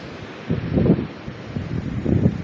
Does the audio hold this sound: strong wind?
yes